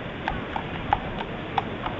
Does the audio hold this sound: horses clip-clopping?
yes